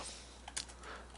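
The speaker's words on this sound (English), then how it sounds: "type in my password, and now I'm connected" Brief, quiet run of computer keyboard keystrokes as a password is typed, a few soft clicks over a faint steady hum with no speech.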